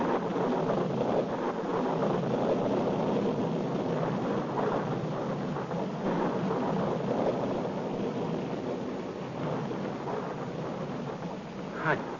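Steady rain falls with a low rumble of thunder beneath it, a dense, even wash of noise holding at a constant level throughout with no clear voices.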